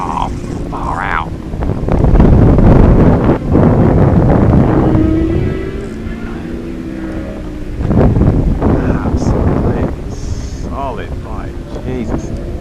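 Strong wind buffets the microphone on a lake during kayak bass fishing, with choppy water, a distant motorboat droning and a voice breaking in at times.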